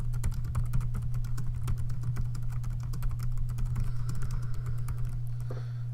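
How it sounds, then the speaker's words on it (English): Fast typing on a computer keyboard while writing a resume, a steady close patter of key clicks over a low electrical hum, with no voices. "I'm going to type in this here."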